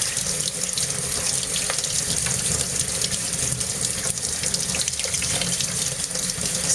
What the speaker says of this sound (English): Now let me rinse off that.